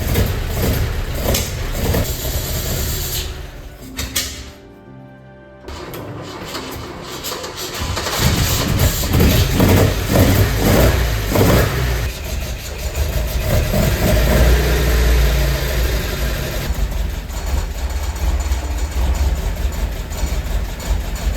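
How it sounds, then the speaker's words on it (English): An Alfa Romeo Alfetta 2.0 engine with Solex carburettors runs close by, an uneven rough idle with a brief dip, then a fuller steady running note. "I will start an engine and get it up to the temperature."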